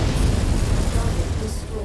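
Mech explosions in the VR video game MechWarrior 5, a continuous heavy rumbling blast with deep booms and crackling bursts, loud and close with no pause.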